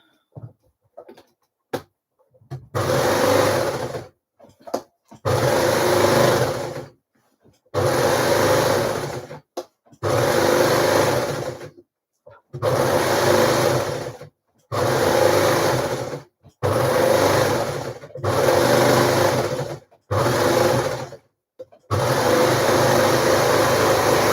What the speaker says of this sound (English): I'll get these hems overlocked now